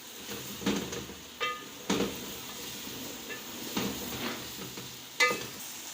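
Spices, including dried coriander, fry in a pan for an okra dish and are stirred, giving a quiet sizzle broken by several distinct scrapes and clanks of the spoon at irregular intervals.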